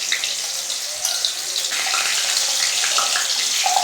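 Potatoes dropped into moderately hot cooking oil set off a loud, steady broadband sizzle and hiss that continues throughout, with small crackles and bubbling bursts on top.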